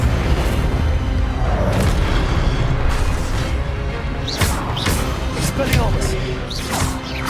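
Incendio fire spell cast in the Hogwarts Legacy video game: booming, crackling bursts with whooshing flares and a few sharp impacts over a dense, continuous game soundscape, with voice present.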